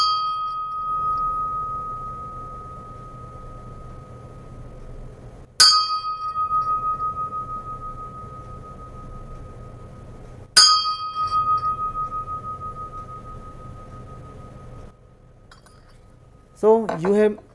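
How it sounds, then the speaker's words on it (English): A Kathmandu bell is struck twice with its sound fed through a pipe, each clear ringing tone hanging on and pulsing as beats while it fades, followed by a brief wavering tone at the end. "This is a Kathmandu bell,"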